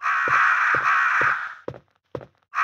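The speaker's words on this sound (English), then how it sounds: "And crows?" Crows caw in the Resident Evil video game, two long harsh drawn-out calls followed by a few short, sharp caws separated by silence.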